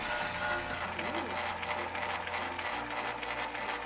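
Ice cream maker churning its mixture with a steady mechanical whir and faint rhythmic ticking, close and continuous, with a little background voice.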